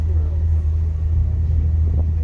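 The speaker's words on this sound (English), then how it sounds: "now we are in the bus" Low, steady engine rumble inside a moving bus on an evening ride after a hike near Zion National Park, a continuous droning hum filling the cabin with faint background noise.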